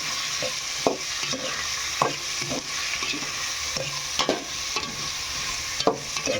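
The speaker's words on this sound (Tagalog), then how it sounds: "gigisahin na rin natin" Shrimp sauté in a pan, with a continuous sizzle under a regular series of spoon scrapes and taps against the metal, close and fairly loud.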